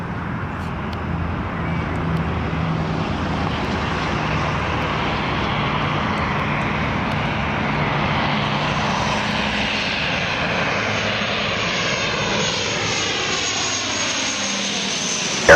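A fixed-wing airplane lands at Toronto Pearson International Airport in the evening. Its engines make a steady, loud roar that holds for the whole span, with a slow shifting whine near the end and no talk.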